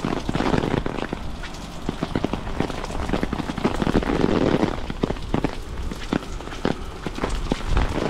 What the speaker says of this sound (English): rain's starting to get heavier again.